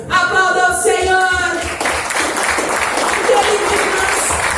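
A church congregation applauds the Lord during a worship service, a burst of clapping that rises after a short spoken phrase and continues under a loud, reverberant hall ambience.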